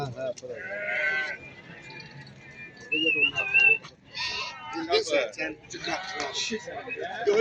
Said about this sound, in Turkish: Bir aylığı da var. Bu da kuzudur.